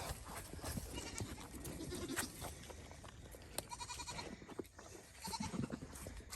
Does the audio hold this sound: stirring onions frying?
no